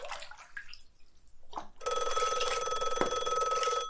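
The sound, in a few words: landline telephone ringing in hallway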